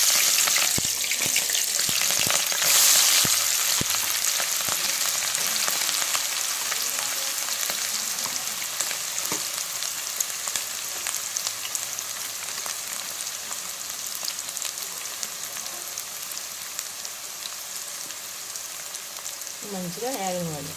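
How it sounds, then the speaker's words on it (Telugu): Chopped onion pieces fry in hot oil in a pot as the base for a mutton and cucumber curry, a steady, close sizzle lasting about twenty seconds, with a few light stirring knocks early on. "ఇదిగా గిన్నె పెట్టి నూనె పోసుకున్నాను. ఉల్లిపాయ ముక్కలు వేసుకున్నాను."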